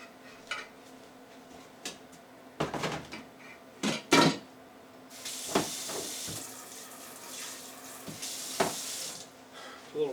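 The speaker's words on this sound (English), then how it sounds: "A little water on it." Tap water runs into a sink over a burnt pan, with clinks and knocks of the pan and dishes, a louder steady stream partway through, and a little background speech.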